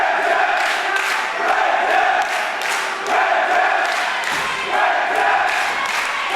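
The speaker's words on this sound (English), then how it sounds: "This crowd is electric." A packed crowd at a live wrestling event roars and cheers continuously, swelling in waves with chanting-like bursts, loud and close throughout.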